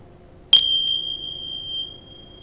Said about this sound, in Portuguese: eu vou gravar o som deste sininho